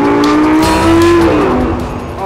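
A 2014 Nissan GT-R accelerates hard, its engine note climbing loud and close over about two seconds, with a steady rising drone and a brief dip as it pulls through the rev range.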